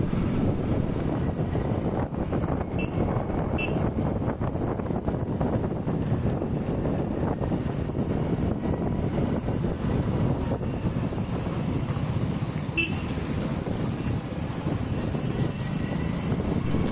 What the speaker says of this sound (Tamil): இங்கேயே தண்ணி வந்துட்டு இருக்கு பாருங்க